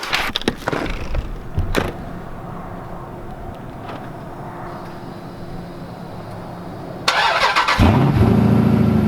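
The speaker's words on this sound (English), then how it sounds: "That's one thing I love about Jeeps is the remote start" A Jeep engine cranks and starts by remote start near the end, settling into a steady idle rumble after a stretch of low background noise.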